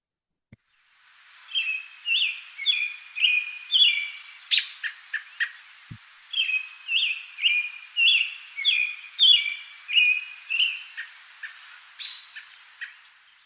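Recorded bird song of up-and-down musical whistles, two long phrases of rapid repeated whistled notes, clear and fairly close with a brief pause between phrases and quiet background.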